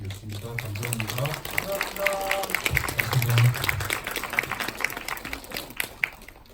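An audience applauds the director and actors at the close of a film screening Q&A at the Seoul Independent Film Festival, sustained crowd clapping with a voice speaking over it at first.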